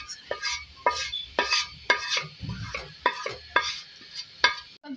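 Leftover fish-frying oil poured into a pan for a Mughlai fish curry and stirred, with rhythmic scraping strokes of a spoon against the pan every half second over a faint sizzle, close and clear, with no voices.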